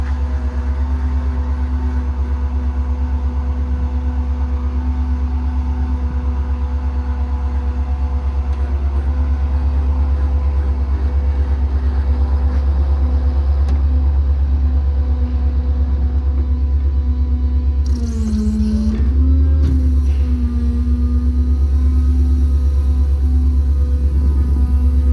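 The 7.3 gas engine of a 2021 Ford F600 mechanics truck idles in a steady, loud low drone while the crane moves slowly, a humming tone holding under the engine and briefly dipping and shifting pitch near the end.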